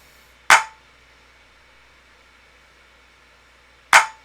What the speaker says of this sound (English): So this was like the main clap pattern here.